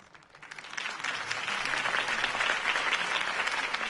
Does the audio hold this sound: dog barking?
no